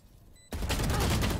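Swarm grenade from Valorant going off: after a brief quiet moment, a sudden loud burst of rapid crackling pops and blasts that continues densely to the end, with no talking.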